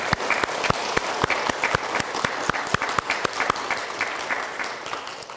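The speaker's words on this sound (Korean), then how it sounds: "아미타불 박수 쳐주세요." Scattered applause from a Buddhist dharma talk audience, a modest crowd clapping at a steady pace with sharp individual claps prominent and close, continuing evenly for several seconds.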